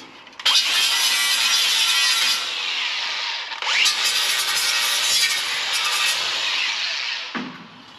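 An angle grinder grinds metal on a Ford Transit van before welding, in two loud sustained high-pitched passes separated by a brief dip, close up, with no talking.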